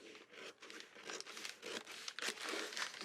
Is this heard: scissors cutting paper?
yes